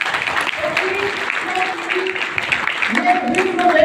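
Audience applause at an open meeting in Chhattisgarh, scattered claps mixed with a voice talking over them and building slightly louder at the close.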